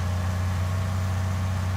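An old tractor engine idles in Farming Simulator 19, a steady low, even rumble that holds unchanged and alone throughout, with no voices over it.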